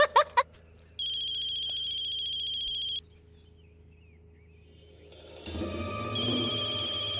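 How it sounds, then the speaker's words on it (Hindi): A telephone rings with a steady electronic trill for about two seconds after a few short knocks. Then it goes quiet before background noise swells and a fainter ringtone returns near the end. "जल्दी से फोन उठाओ वरना वो तोड़ देगी।"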